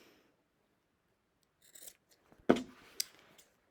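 Scissors trim the fabric corners of a sewn Dresden-style wreath, a few close, crisp snips with a sharper cut near the middle, alone and fairly quiet.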